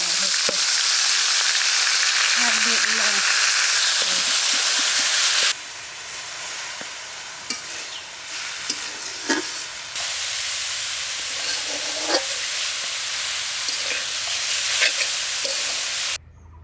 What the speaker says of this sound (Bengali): শাক ভাজি সুন্দর করে রসুন পেঁয়াজ ভেজে এখন শাক দিয়ে